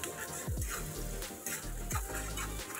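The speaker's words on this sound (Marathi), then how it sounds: "बारीक चिरलेला कांदा तेलावर परतून घेऊया." Finely chopped onion sautés in oil for a flower vegetable bhaji, giving a steady close frying hiss broken by a few low thumps and scrapes as the pan is stirred.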